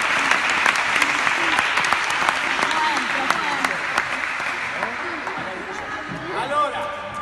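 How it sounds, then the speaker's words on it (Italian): Steady applause from a group at a sports training camp, a dense, even wash of clapping sustained throughout, with voices talking underneath. "Facciamo un applauso a Pippo."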